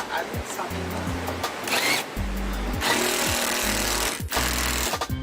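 Power tool bursts tighten bolts while a spoiler is fitted to a Hellcat Challenger, several loud rattling runs separated by short pauses, with voices talking between them.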